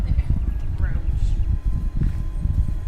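Geralt's horse Roach from The Witcher video game trots with a muffled, rhythmic clip-clop of hooves, close by and continuous.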